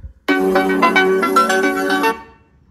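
An Asus ROG Phone 7 gaming smartphone plays a short melodic tone through its built-in speakers, loud and clear, lasting about two seconds before cutting off.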